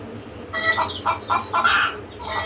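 A hen clucks near a village home, a quick run of sharp, fairly close clucks after a short quiet start, then a pause and another call.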